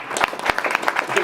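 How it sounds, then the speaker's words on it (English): Audience applause for the mentors at a gathering about mentoring and the John Schofield Trust, a brief burst of clapping from a room of people with distinct claps standing out, voices faintly mixed in. "I just wanted a round of applause to the mentors"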